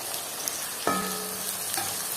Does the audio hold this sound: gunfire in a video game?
no